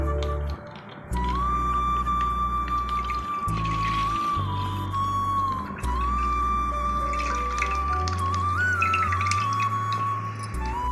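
Milk pours steadily into a pot with a continuous trickling gurgle, close up, pausing briefly a couple of times, over a low background hum.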